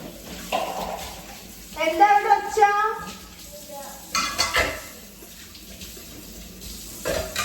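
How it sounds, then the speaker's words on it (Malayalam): Dishes clatter and clink with running water in a sink, close by, with brief murmured talk in between. "പാത്രം കഴുകലെന്ന് പറഞ്ഞിട്ടുണ്ടെങ്കിൽ ഒരിക്കലും അവസാനിക്കാൻ പറ്റാത്ത ഒരു ജോലി"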